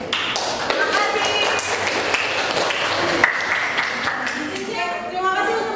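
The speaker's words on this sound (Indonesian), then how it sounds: "Tepuk tangan untuk kalian." A classroom audience claps steadily for a group that has just presented at a university teacher-training session, a dense wash of many hands with voices talking over it.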